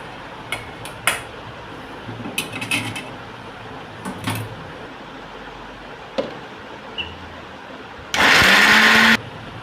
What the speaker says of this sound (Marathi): मिक्सरच्या भांड्यात ओतून घेऊया आणि बारीक करून घेऊया.